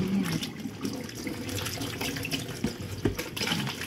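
Tap water runs steadily into a kitchen sink while a salted Chinese radish is rinsed for pickles, a continuous close splashing hiss with small clatters, no talking.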